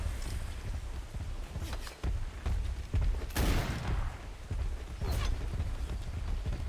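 Pistol gunfire in the video game Atlas, heard as a few sharp shots among busy combat noise, with one loud broadband burst near the middle standing out over a steady background din.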